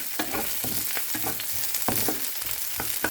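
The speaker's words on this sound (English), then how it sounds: "Then add the garlic and continue on stirring until the aroma comes out." Garlic and onion frying and sizzling in a pan while being stirred, a continuous crackle with repeated scraping strokes, close and steady, no voices.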